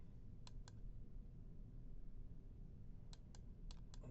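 A computer mouse clicks in a quiet room while someone works in SolidWorks CAD software: two sharp clicks, a pause of a few seconds, then a quick cluster of four more over a steady low background hiss.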